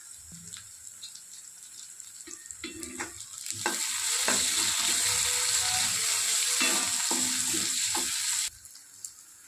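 Tomatoes drop onto already fried onions for homemade Chinese fried noodles and start to sizzle, the hiss swelling loud midway while a spoon scrapes and taps the pan in irregular strokes, then fading.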